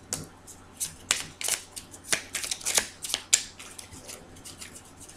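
Tarot cards are shuffled for a reading in soft, close, repeated swishing bursts that come and go at an uneven rhythm.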